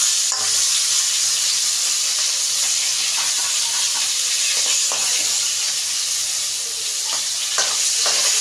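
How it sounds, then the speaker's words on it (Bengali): Pieces of pointed gourd fry in hot oil in a pan, giving a continuous dense close sizzle and hiss with scattered small pops and crackles, no talking. "পটলটা খুব সুন্দর করে ভেজে নিলাম"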